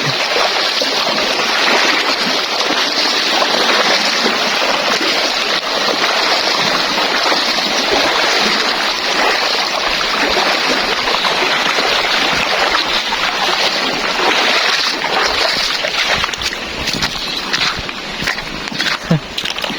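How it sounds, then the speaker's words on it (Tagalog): River water rushing over a muddy mountain streambed, a continuous broadband roar that stays close and steady throughout and eases slightly near the end. "Ayun ang ilog"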